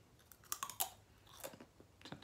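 Close, crisp crunching of someone chewing crunchy Takis corn chips, several distinct bites in a quiet room.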